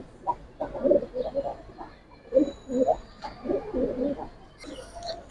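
Silver pigeons of a pure bloodline coo repeatedly, a steady run of low throaty rolling calls close at hand, fairly loud, with a faint high chirp near the end.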